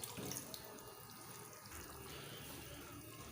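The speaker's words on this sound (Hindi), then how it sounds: "इसमें पानी डालते हैं ताकि दाल हमारी अच्छी तरह से गल जाए।" Water running steadily from a tap into a pot of mash lentils (urad dal) being cooked, a continuous splashing pour lasting a few seconds with no talk.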